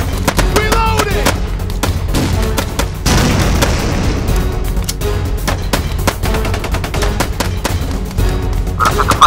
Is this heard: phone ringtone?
no